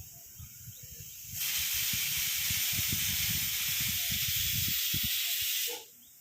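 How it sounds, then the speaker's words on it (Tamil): A pressure cooker of chickpeas on the stove releases a loud, steady steam hiss for about four seconds, with low rattling pulses beneath it. The hiss then cuts off abruptly. "கொண்டக்கடலை இப்போ தான் ஒரு விசில் வந்திருக்கு."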